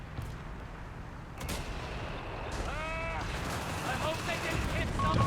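Heavy mortars firing and shells landing in Company of Heroes 3, a 4v4 match on the Sousse map, with repeated booming blasts amid a dense battlefield din and a voice talking over it.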